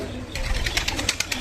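Female pigeon in a Bangladeshi village loft giving soft repeated coos in a quick rhythmic series, close by over a low background murmur.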